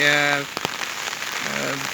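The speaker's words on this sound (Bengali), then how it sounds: "দেখেন কি পরিমাণে বাতাস আর বৃষ্টি হচ্ছে" Steady, dense hiss of heavy rain and wind from Cyclone Remal pouring down nearby, with a voice speaking briefly at the start and again at the end.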